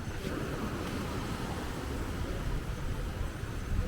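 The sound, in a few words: strong wind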